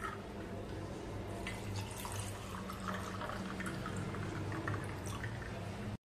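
Cold water from the fridge poured into a mango drink mixture, a steady close trickle and splash of liquid lasting several seconds before cutting off.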